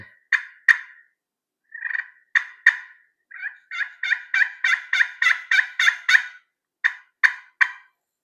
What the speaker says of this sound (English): it's just a great little sweet glass call